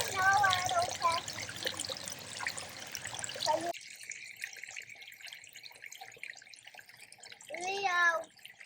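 A small garden pond trickles steadily and softly in the background, with people talking over it at the start and again near the end.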